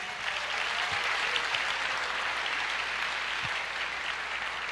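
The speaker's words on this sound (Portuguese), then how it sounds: "Você pode aplaudir o Senhor, dizer glória a Deus." A church congregation applauds during a sermon, steady even clapping from many hands heard at moderate distance, filling the room without pause.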